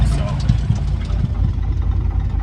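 A side-by-side utility vehicle's engine runs nearby on a cattle ranch, a rough low rumble with irregular knocks and bumps, with a voice talking over it.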